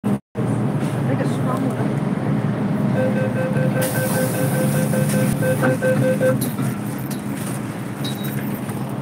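A train stands at a Hong Kong station platform with a loud, steady rumble and hum throughout. A tonal whine rises midway and a brighter hiss of brakes or doors follows, while voices are heard in the background.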